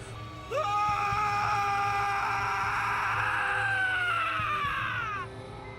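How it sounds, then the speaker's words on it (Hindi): A man screams in terror as he flees in a spooky haunted-house story, one long wailing shriek that rises, holds loud for about five seconds, then falls away over a low hum. "नमन चीखता हुआ वहां से भागा"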